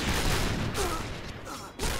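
Rapid gunfire from the shooter video game Point Blank, a dense fusillade of shots in quick succession at fairly loud level.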